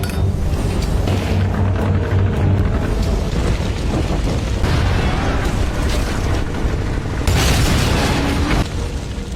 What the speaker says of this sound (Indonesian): Biarkan meledak dengan bajak laut yang mati masih di kapal.